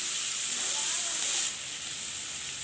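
Chickpeas fry in a pan with a steady, moderately loud sizzling hiss that eases slightly partway through, with no talking.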